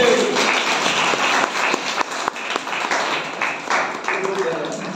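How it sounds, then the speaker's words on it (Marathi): An audience applauds as a guest, a retired Lieutenant Commander, is welcomed on stage, a continuous clatter of many hands with sharp individual claps standing out, loud and near throughout. "सगळ्यांना विनंती करतो की जोरदार टाळ्या व्हायला पाहिजे"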